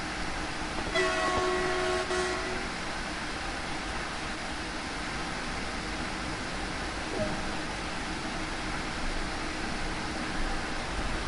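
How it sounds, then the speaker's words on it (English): Horn of an ICE high-speed train in the Train Sim World 2 simulator, a single sustained tonal blast over about two seconds above steady rolling rail noise, followed by continuous train rumble with a faint later tone. "This is the horn used for this train."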